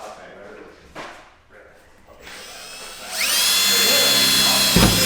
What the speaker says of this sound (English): Using a small bit so I can make sure that I hit the center